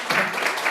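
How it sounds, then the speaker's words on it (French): A church congregation claps during a service, a brief, even patter of applause that fills the room without a break. "À nouveau applaudir"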